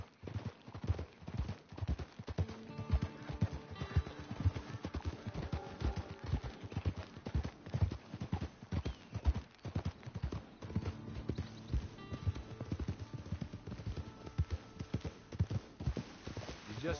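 Horse hooves clip-clopping at a steady riding pace in the video game Red Dead Redemption 2, a continuous close rhythmic patter that carries on for the whole stretch without pause.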